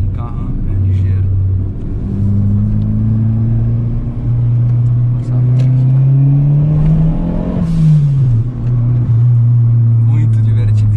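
Ford Ka 1.6 fitted with a turbo kit accelerating through a curve, its engine note rising and sweeping in pitch as it revs, steady and close throughout with a brief dip and recovery near the end.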